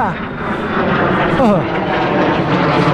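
A fighter jet roars overhead, a loud, broad, continuous rush of engine noise swelling across the sky at a farm, with people talking over it.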